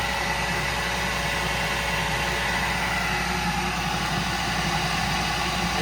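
Car engine running steadily with a J-type overdrive engaged, a constant broadband mechanical drone with low idling rumble throughout, close and fairly loud, no talk.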